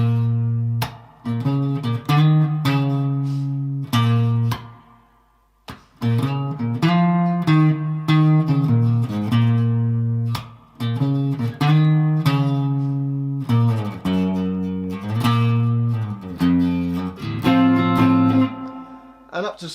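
An electric guitar plays the riff from a song slowly with a gritty, distorted tone, with picked notes and chords in a steady rhythm, one short pause early on, and then the phrase repeats.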